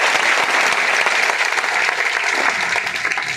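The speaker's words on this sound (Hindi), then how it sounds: "एक बार सबके लिए जोरदार तालियां चाहिए" A crowd at a farmers' protest rally applauds loudly and continuously, a dense roar of clapping that eases off slightly toward the end.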